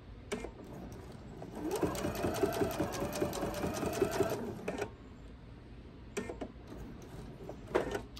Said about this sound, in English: let me get you in just a little closer here to my machine. And I'm going to stop right on that 1/4 of an inch line with my sewing.